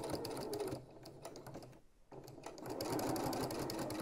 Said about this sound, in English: So this is pretty much just one continuous line of stitching.